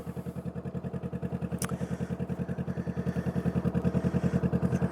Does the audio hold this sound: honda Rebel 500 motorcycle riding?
yes